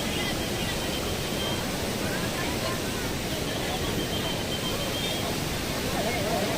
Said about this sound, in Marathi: हाच तो धबधबा